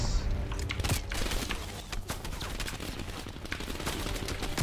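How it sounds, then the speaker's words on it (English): Dense, continuous gunfire from Call of Duty: Black Ops Cold War, with rapid overlapping shots and bursts at a steady loud level throughout, like a busy firefight with automatic weapons and a shotgun nearby. "Are you shooting American troops now?"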